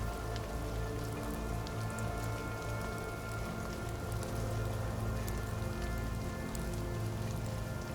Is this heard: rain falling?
yes